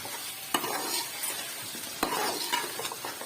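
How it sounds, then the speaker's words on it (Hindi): Chicken with masala, salt and onions frying in a pan, a close steady sizzle broken by sharp scraping stirs at regular intervals, with no talking. "मसाला भूनूंगी साथ साथ। जैसे फ्राई मेरा जो है चिकन भी फ्राई होता जाएगा"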